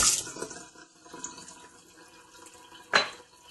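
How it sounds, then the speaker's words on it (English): Running water splashes in short bursts as fecal-testing utensils are rinsed under a tap, with one louder splash near the end. "all you need to do to clean your stuff is rinse them out with water"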